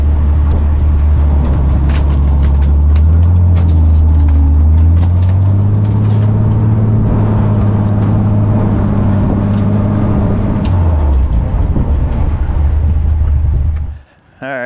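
A vintage off-road wrecker pulls a Ford F250 up onto the road, its engine rumbling loudly and steadily with a rising and falling drone before cutting out abruptly near the end.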